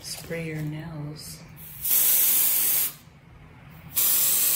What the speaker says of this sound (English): spray your nails